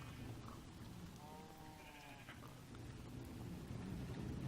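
A sheep in the Minecraft Better Than Wolves mod gives a single short, wavering bleat, fairly faint against a steady hiss of background noise, with no talking.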